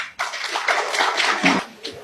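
Audience clapping steadily for two seconds at a political talk, a dense continuous patter of many hands at moderate loudness with no voices over it.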